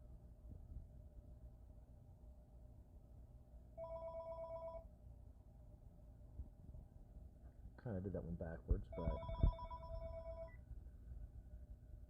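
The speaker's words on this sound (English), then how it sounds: "Phone just rang." A telephone rings twice in short electronic bursts, the second followed by some handling noise, heard under quiet talk in a room during a card game.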